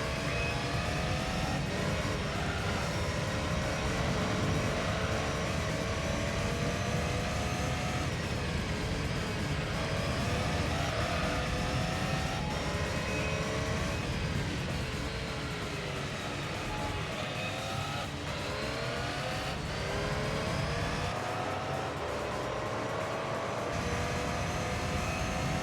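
Race car engine in Gran Turismo 3 working through the corkscrew, a loud continuous high-revving whine with rising and falling pitch as the car shifts and brakes, steady throughout with no talk.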